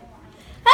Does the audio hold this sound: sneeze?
yes